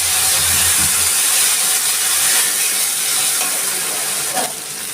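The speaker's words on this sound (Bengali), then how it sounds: "আমি ফোড়নে দিয়ে দিচ্ছি একটু গোটা গরম মশলা, একটা তেজপাতা, দিচ্ছি কয়টা সাদা জিরে" Whole garam masala, a bay leaf and cumin seeds sizzling loudly in hot tempering oil, a continuous close hiss and crackle with faint stirring clinks throughout.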